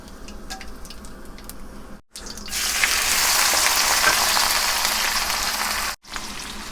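Whole spices, cumin, cloves and cinnamon, hit hot oil left from frying onions for village-style chicken biryani, bursting into a loud, steady broadband sizzle after a quieter opening, with a brief gap near the end.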